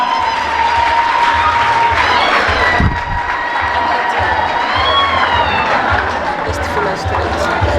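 Crowd applauding and cheering for a graduating physics student at a secondary school prize-giving ceremony, steady dense clapping with shouts mixed in and talk over it.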